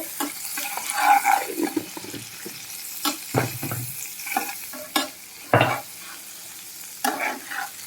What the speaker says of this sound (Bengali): এখন দিয়ে দেবো হলুদ। এখন ভালো করে মিশিয়ে দেবো।